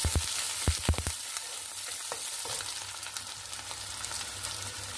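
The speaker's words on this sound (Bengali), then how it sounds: "এখন দিয়ে দিব কিছু পেঁয়াজ কুচি, এটাকে একটু নেড়ে নেব।" Chopped onions sizzle steadily in a pan for a pointed gourd dolma, with several sharp clinks of a stirring utensil early on and a continuous hiss throughout; no voices.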